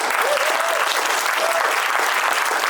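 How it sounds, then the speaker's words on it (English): A banquet crowd at a country club installation dinner gives a sustained round of applause, dense and even throughout, with a faint whistle or voice rising briefly above the clapping. "Let's give a big round of applause for the staff of Warren Country Club."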